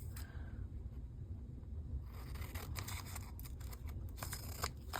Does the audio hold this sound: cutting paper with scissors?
yes